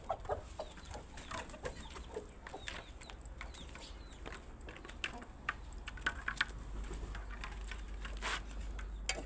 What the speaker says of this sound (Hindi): ये देखो मुर्गे भाग गए ना